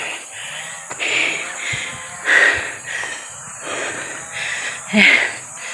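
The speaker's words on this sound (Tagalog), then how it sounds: "ang hingal ko." Heavy, labored breathing repeats in rough bursts on a mountain, each ragged gasp and wheeze close and out of breath, with no talking.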